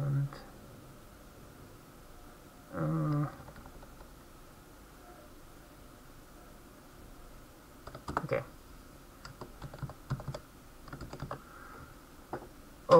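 Computer keyboard typing while documentation is written, scattered bursts of close key clicks with a longer clatter early on and a quieter cluster near the end, a low voice murmuring in places.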